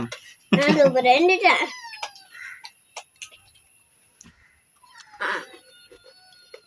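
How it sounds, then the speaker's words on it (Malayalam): A kitten meows close by, one drawn-out rising call followed after a pause by a shorter, softer cry, with small knocks and quiet gaps between. "നമ്മുടെ പൂച്ചക്കുട്ടി നിന്ന് വിളിക്കണ്ട്"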